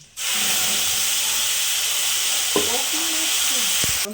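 Whole spices, fennel, cumin and bay leaf with dried red chillies, crackle and sizzle steadily in hot oil, a dense continuous hiss close by with a couple of faint clinks of a utensil.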